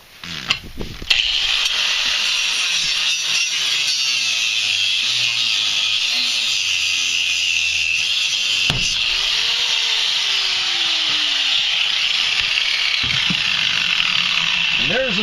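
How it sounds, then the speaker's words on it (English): An angle grinder cuts through the seat bolts under a school bus seat, giving a loud, sustained high whine after a brief start, with some clanks and scraping partway through. "that gives us access to get underneath it with the angle grinder and cut those bolts"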